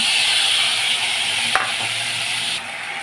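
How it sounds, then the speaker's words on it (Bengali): Spice paste dropped into hot oil over a fried mustard-seed tempering for a Bengali eggplant chutney, giving a steady loud sizzle with a brief stirring clatter midway and a quieter stretch at the end, no talk. "এবার আমি যে মশলাটা করে রেখেছিলাম এই মশলাটা দিয়ে দেব।"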